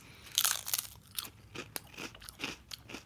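Ridge-cut chicken-flavoured crisps crunched and chewed close to the mouth, a loud snap followed by a run of brittle crackling bites that settles into steadier chewing.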